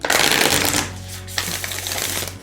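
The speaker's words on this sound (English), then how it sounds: "just start overhand shuffling, I think" An overhand shuffle of a large matte-finish tarot deck, with two bursts of close, papery card riffling separated by a short pause.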